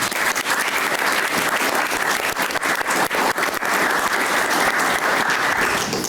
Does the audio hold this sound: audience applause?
yes